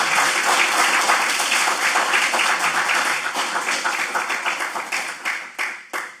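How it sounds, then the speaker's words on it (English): A lecture hall audience applauds a law professor arriving to give a free speech lecture. Sustained, loud clapping slowly thins out, ending in scattered individual claps. "so if you want to keep applauding me"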